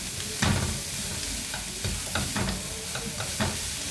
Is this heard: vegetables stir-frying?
yes